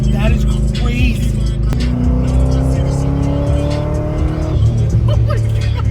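A supercharged ProCharged C6 Corvette accelerating hard on a street, its engine rising in pitch through a gear change and then pulling again, loud and close from inside the car, with excited voices talking over it.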